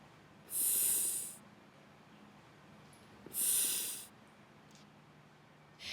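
Two long rescue breaths blown into a casualty's mouth during CPR, each a loud, breathy rush of air lasting about a second, separated by a quiet pause, with no talking.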